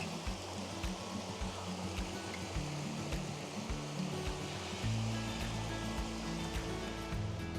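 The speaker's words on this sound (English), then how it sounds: "Just a wee waterfall there, not much." Small waterfall at Rouken Glen in Glasgow, a steady close rush of falling water filling the whole scene with even broadband noise and a low churning rumble, no voices.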